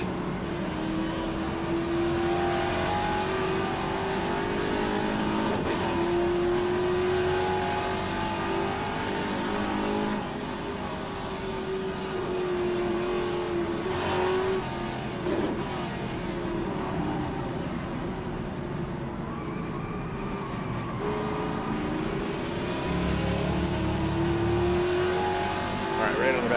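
Classic Trans-Am race cars at Mosport, a steady loud engine drone from inside the pack that rises and falls through gear changes, running under a voice the whole way.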